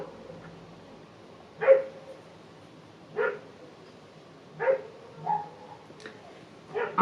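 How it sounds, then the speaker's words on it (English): Several dogs bark outside a window, sharp separate barks arriving in bursts every second or two with a yip among them, moderately distant over a quiet room. "I'm gonna have to shut the window because there's dogs barking."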